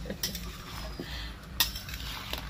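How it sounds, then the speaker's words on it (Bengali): Banana flower, coconut and spices being stirred and sautéed in a pot, metal spoon scraping and clinking against the pan in uneven strokes over a soft background sizzle, close and without speech. "এইবার এটাকে ভালো করে কষিয়ে নেব, শুধু কষানো, হাত ব্যথা হয়ে যাবে, নেড়ে নেড়ে নেড়ে নেড়ে"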